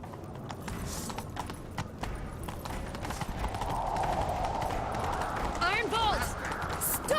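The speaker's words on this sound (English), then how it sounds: "Grab a horse, we'll chase him down." Horse hooves clip-clopping at a gallop in Witcher 3 on Skellige, a steady rapid beat of fairly faint hoofbeats under character dialogue and ambient game sound.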